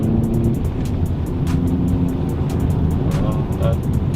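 The engine of a Hyundai i30N Pack Performance hatchback accelerates, heard as a loud, steady, deep rumble with road and wind noise from inside the car, holding strong from start to finish.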